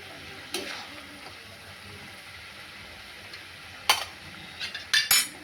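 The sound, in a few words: adding potato and eggplant to spices, stirring in pan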